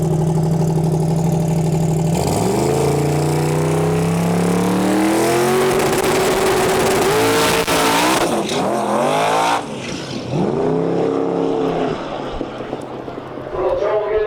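A drag racing car of about 3,500 horsepower does a burnout at Interlake Dragway. Its engine roars and climbs in pitch through several rising revs, then cuts off and surges again, with an announcer talking over the din.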